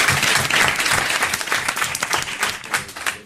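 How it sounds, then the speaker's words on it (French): A studio audience on a French television show breaks into applause as a guest is welcomed, a full, dense burst of clapping that stays loud throughout and fades slightly at the end. "sous vos applaudissements"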